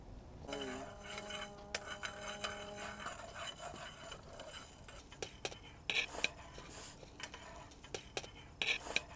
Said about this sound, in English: taking whole spices and toasting them before you grind them up